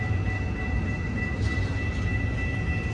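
An NS or BNSF freight train rumbles steadily past a railroad crossing at daybreak, a continuous loud low roar of rolling wagons with faint high metallic squeal tones, no voices heard.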